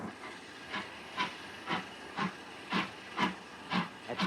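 A steam locomotive on the Keighley & Worth Valley Railway lets off steam in a steady series of rhythmic hissing bursts, about two per second, fairly close and moderately loud against a constant background hiss, with no voices.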